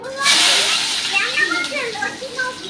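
Hot mustard oil in a pan gives a close, bright sizzling hiss that swells at the start and then crackles on, with a voice talking over it.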